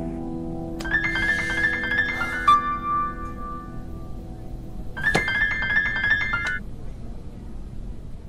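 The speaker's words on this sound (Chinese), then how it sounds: "大伟，马上给客房部的经理打电话。" A phone rings in two bursts of a bright electronic ringtone, a pause between them, in an indoor office scene during a call to a hotel housekeeping manager.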